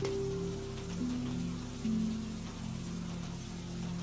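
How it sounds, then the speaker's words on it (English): Gentle rain falls through a leafy forest, a soft, even patter under a low steady hum, quiet and continuous with no talking. "The rain here falls even more gently, filtered through so many layers of leaves that it arrives at the forest floor as little more than a soft misting drizzle"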